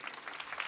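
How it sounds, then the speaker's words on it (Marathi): An audience at a Marathi kirtan claps briefly, a faint and distant patter of many hands. "टाळ्या वाजवा ना जोरदार."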